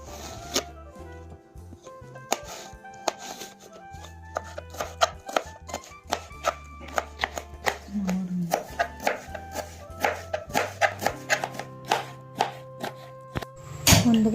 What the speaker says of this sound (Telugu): అరటికాయ ముక్కలు కూడా చాలా చిన్నగా తరుక్కోవాలి